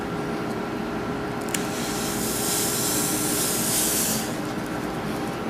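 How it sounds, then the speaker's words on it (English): Breath blown through a straw over a cone of squeezed chocolate, spraying squiggles onto plastic: a steady, close airy hiss that swells in the middle and runs the whole time without talk. "By blowing through a straw over the top of the cone as I squeeze the chocolate out, it will spray squiggles onto the plastic here."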